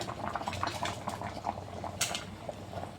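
Shol fish curry gravy bubbling in a pot after the shol fish pieces go in, a close, continuous simmering boil with small pops and gurgles throughout and one brief louder splash near the end.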